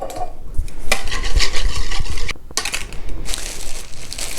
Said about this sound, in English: then you'll just want to whisk this together